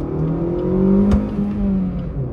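Maruti Swift ZXI+ hatchback accelerating hard in a 0-100 run, its engine note rising steadily in pitch, then a brief gearshift dip and the climb resuming, loud and close from inside the car.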